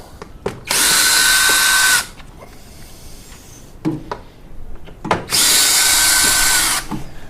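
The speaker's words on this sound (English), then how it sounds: "Obviously you can do this by hand, but it's a lot quicker with a power tool." Two sustained bursts of a whirring power drill removing screws from a 2016-2018 Volkswagen Jetta 1.4L during an oil change, close and loud, separated by clattering and clicking as parts are handled.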